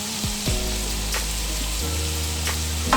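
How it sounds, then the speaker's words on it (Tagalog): Radish cake ingredients sizzle steadily as they are sautéed in a pan, a continuous frying hiss with a few clicks of stirring and utensil contact, no talking. "Ito, ginigisa ko na yung mga ingredients."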